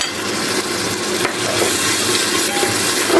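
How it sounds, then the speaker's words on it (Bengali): Spices with turmeric, cumin and salt sautéing in a pan, heard as a loud, dense, continuous sizzle and frying hiss with faint stirring, close and steady throughout. "1 চা চামচ হলুদের গুঁড়া, 1 চা চামচ জিরের গুঁড়া, স্বাদ মতো লবণ দিয়ে আমি একসঙ্গে করে ভালো করে কষাই নেব।"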